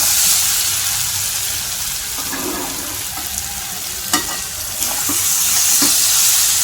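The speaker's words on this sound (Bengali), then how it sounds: "এই যে চিকেনের এই এখন কষানো হচ্ছে ভালো করে" Small chicken pieces and potatoes sautéing in a pan, a constant loud sizzle with a few scraping stirs and clicks of the spatula against the pan.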